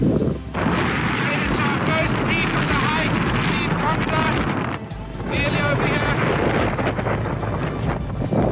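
Strong, cold wind in the Mourne Mountains of Northern Ireland during a whiteout roars and buffets loudly against the microphone throughout, easing briefly at a couple of moments before surging again.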